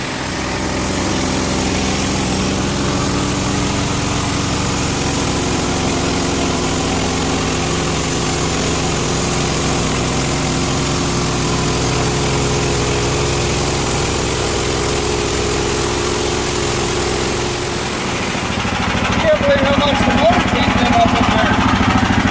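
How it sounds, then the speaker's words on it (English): A single-cylinder electric-start engine on a sawmill runs at a steady, loud idle with a low, even thrum; near the end the tone shifts as the running changes. "That single cylinder engine with the electric start is not very expensive at all"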